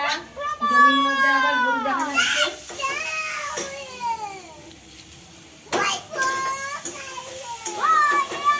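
Young children play with a boy at home, their high chattering voices, squeals and calls overlapping, with a short pause before the lively play resumes.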